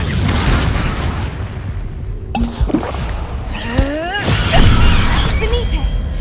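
Confringo spell blasts in the Hogwarts Legacy video game, loud fiery booms and shattering bursts amid battle noise, with a sharp cut before a second burst and swooshing magical effects, alongside a shouted spell incantation.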